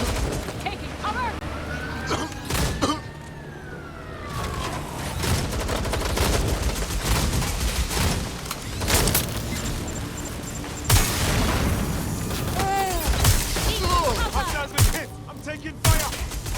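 Gunfire in the video game Watch Dogs Legion: dense, continuous bursts of shots and booms over a steady combat din, with in-game voices talking throughout.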